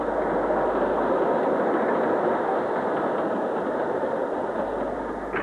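Steam locomotive 78007 descends a steep incline into a bay platform on the Carmarthen line, a steady broad rumble of a train rolling close by without pauses, no voices.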